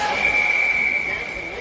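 A referee's whistle sounds during an ice hockey game, one sharp sustained blast lasting about a second over arena crowd noise and talk.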